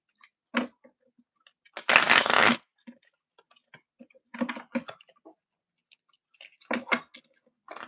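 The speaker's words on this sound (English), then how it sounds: "I just want to make a good little shuffle." Tarot cards are shuffled by hand close up in a quiet room: short papery riffles and snaps arrive in irregular bursts, one longer, louder riffle among scattered soft taps and clicks.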